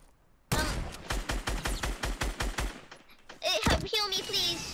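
Rapid burst of video game gunfire in Fortnite, about a dozen evenly spaced loud shots, followed by game effect sounds and a chaotic mix near the end.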